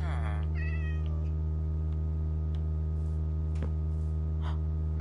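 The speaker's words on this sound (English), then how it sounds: "Is there a cat?" A cat meows at the start, a short wavering call with a second fainter mew right after, set over a steady low electrical hum in a quiet room while a Minecraft game plays.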